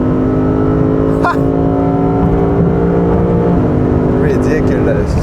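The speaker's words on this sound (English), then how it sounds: "let me just let you hear the V8s." A Lexus RC F V8 engine drones loudly and steadily with a deep, throaty exhaust note, pitch climbing slightly as it holds revs, heard close up.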